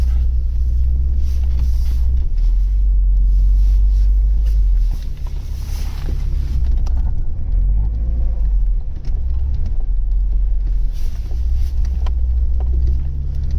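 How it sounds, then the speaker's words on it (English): An Opel Omega 2.4i, a barn find parked since 2003, idles and rumbles while reversing slowly, a steady deep drone with slight revving, no voices. "so I'm just going to reverse the car"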